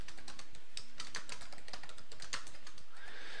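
Rapid, steady keystrokes on a computer keyboard, close and fairly loud, with a dense run of clicks and clacks continuing alone without any voices.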